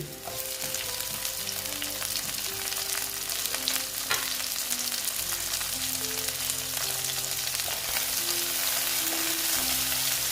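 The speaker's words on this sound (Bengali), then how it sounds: "টমেটোটা ভালো মতন আমি ভেজে নেব পেঁয়াজের সঙ্গে" Onion and chopped tomato frying in a pan for a pabda fish posto curry, giving a steady, loud sizzle with occasional stirring scrapes and no talk.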